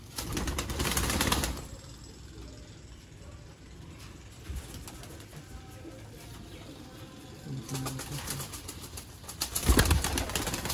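Sialkoti pigeons coo and shuffle about nearby, with soft murmuring calls and bursts of wing flapping and rustling at the start and end against a quiet background.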